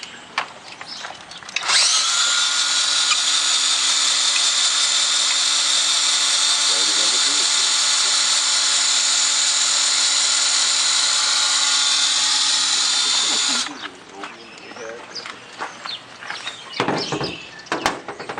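A power tool runs steadily for about twelve seconds, driving a 9/16 socket on pool equipment bolts. It is a loud, close, high whine with a brief lower rattle of work before and after.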